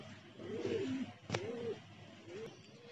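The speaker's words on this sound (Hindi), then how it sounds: "ये कबूतर वापस आता हुआ" A pigeon near a water tank gives soft coos, a few low rolling calls with a brief sharp click between, faint and a little distant over steady outdoor background.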